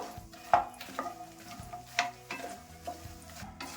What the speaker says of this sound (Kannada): ಅದೇ ತುಪ್ಪಕ್ಕೆ ಮಕಾನ ಹಾಕೊಂತಾ ಇದ್ದೀನಿ. ಇವಾಗ ಇದನ್ನ ಕ್ರಿಸ್ಪಿ ಆಗೋ ತನಕ ಬಾಡಿಸ್ಕೋಬೇಕು.